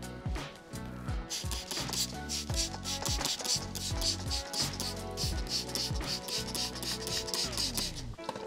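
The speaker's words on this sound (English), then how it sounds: "Now I can squeegee all this down." A squeegee is dragged across a surface in repeated short strokes, making a rhythmic rubbing, scraping squeak with a gritty, ratchet-like texture. It stays close and steady throughout, with no talking.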